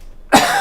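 A single loud cough from someone with a cold bursts out after a brief near-silent pause, close to the microphone, with no talk.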